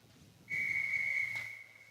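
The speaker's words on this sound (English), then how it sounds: "Whistle goes for the end of the timeout" A single sharp, high-pitched referee whistle blast ending a timeout at a youth ice hockey game, lasting about a second, loud over a quiet arena murmur.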